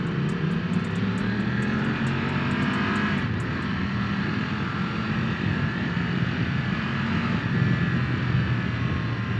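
A Triumph motorcycle engine drones loudly and steadily while riding, with a continuous broadband roar and rushing wind that holds for the whole stretch and no talking.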